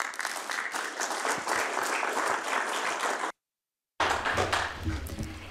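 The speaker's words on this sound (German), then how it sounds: "einen großen Applaus, der tut uns allen gut" A crowd applauding steadily, dense clapping that cuts off abruptly for a moment before resuming.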